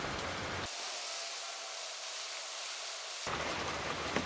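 A sprayer misting diesel onto wood to kill bedbugs, a steady broad hiss that starts abruptly after a moment of rain-like background and cuts off again, fairly close and even, with rain noise around it.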